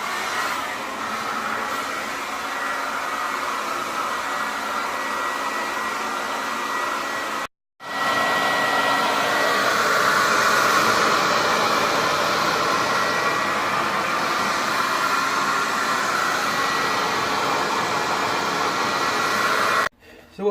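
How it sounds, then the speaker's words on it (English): A handheld hairdryer blows steadily onto curing fibreglass resin during a homemade bass-car repair, a continuous close whooshing roar that cuts out once briefly and then resumes. "I'm going to hit it with a hairdryer and hope it goes off quicker"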